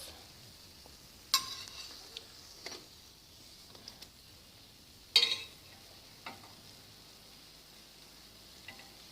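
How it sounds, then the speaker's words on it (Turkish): Pişi dough frying in hot oil, a quiet steady sizzle broken by a few sharp pops and crackles, no talk. "kızgın yağ soğudukça e, içinde boğulmadan bir daha kızdırabiliriz."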